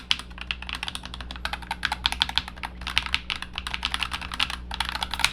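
A typing test on an E-YOOSO HZ61 keyboard with magnetic switches: dense, rapid, close-up keystrokes clatter in uneven bursts throughout, with no talking.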